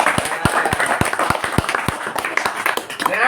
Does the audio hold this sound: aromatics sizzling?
no